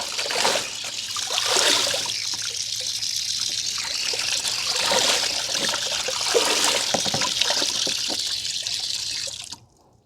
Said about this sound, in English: I want to show you how to rinse and clean this moringa before I dry them.